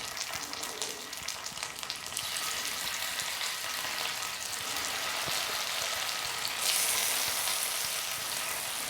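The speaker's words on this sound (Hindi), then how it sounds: "तो इसको हम शैलो फ्राई करने वाले हैं।" Soyabean pieces shallow frying in a few spoonfuls of hot oil in a pan, a dense, continuous crackling hiss that holds steady and swells slightly later on, close and fairly loud, with no speech.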